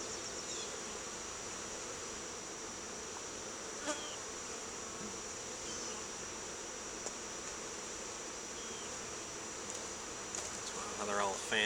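A swarm of honeybees fanning their wings at the entrance of a new hive, a steady dense buzzing hum close by, with occasional louder individual bees passing near and a voice speaking briefly.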